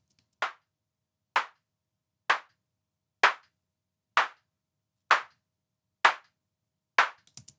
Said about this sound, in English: And now it sounds like a clap.